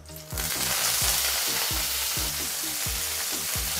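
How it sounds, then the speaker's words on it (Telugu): Chopped coriander leaves sizzle steadily in a hot pan, a dense, even frying hiss with soft stirring scrapes, close and continuous with no voices. "అదే పాన్లో మనం కట్ చేసి ఉంచుకున్న కొత్తిమీరని వేసి"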